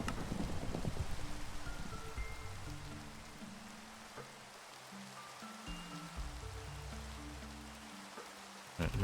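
Steady rain falls in the Minecraft modpack Monifactory, during a thunderstorm, as a soft, even hiss that runs throughout beneath quiet melodic game music notes.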